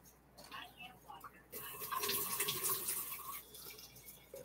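Sprouts being rinsed under a running kitchen tap, a steady hiss of water splashing into a sink that starts abruptly partway through and continues at moderate level before easing off.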